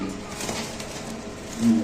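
Soft, low pigeon cooing murmurs close by against a steady background hiss, swelling slightly toward the end.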